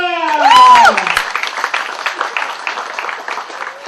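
A studio audience claps on the set of the TV serial 'Udann', a dense, steady patter of applause that follows a short tonal sound at the start and carries on to the end.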